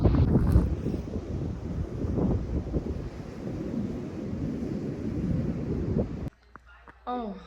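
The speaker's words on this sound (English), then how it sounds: "Got the bucket, and it's kind of windy," Wind buffets an outdoor microphone at a flower farm in a loud, rough, rumbling gust that lasts several seconds, then cuts off abruptly. A brief bit of speech follows.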